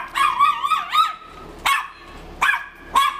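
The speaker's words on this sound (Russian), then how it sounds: "Забыла, что тут собака." A dog barks close by, four sharp, loud barks with short pauses between them, the first drawn into a yelping, whining run, with no talking around them.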